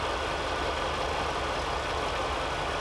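A 1985 RV camper's engine idling steadily with its electric choke engaged, a constant low rumble with no change in pitch, heard close and alone.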